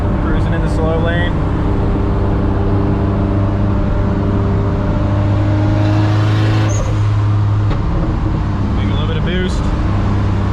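A Nissan 240SX with a turbocharged KA24DE engine cruises in the slow lane, its steady low engine drone and road rumble filling the cabin as someone talks over it.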